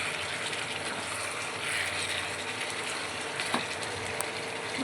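Chicken sizzles steadily in hot oil as it is fried and stirred in a pan, a constant crackling hiss with faint scraping.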